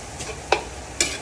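Adobong labong, bamboo shoots cooking in a pan, is stirred with a few brief scraping clinks over a soft steady sizzle.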